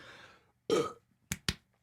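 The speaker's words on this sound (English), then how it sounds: "Burp." One loud, close burp sounds alone after a faint murmur, followed by two short sharp clicks or pops.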